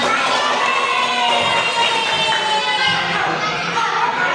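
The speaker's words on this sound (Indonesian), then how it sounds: "Oke, tepuk tangan." A classroom full of elementary school children shouting and cheering together, loud and continuous, with a dense burst of clapping mixed in.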